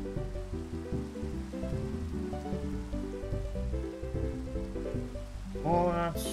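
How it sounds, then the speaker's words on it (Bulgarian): Rain falls in Minecraft as a steady soft patter under tonal game music, with a brief rise in sound near the end. "Що дъж, бе?"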